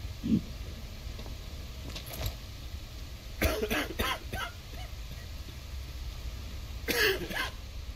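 A character coughs in the video game Quarantine Zone: The Last Check, with a few short bursts near 3.5–4 seconds and again around 7 seconds over a steady low background hum.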